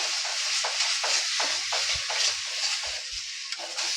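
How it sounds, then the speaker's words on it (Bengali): Bitter gourd frying in oil with salt and turmeric, a continuous loud sizzle with rhythmic stirring scrapes and a few low knocks of the spoon against the pan. "একটু ভেজে নিতে হবে"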